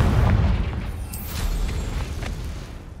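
The Confringo fire spell explosion in Hogwarts Legacy, a heavy rumbling boom that carries a deep low roar through the whole moment, with a brief crackling burst near the middle, loud and close.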